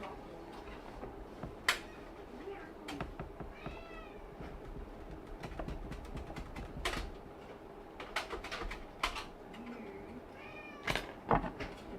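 A house cat gives a few soft, scattered meows in a quiet room during a PC build, faint and spaced apart amid small clicks and ticks.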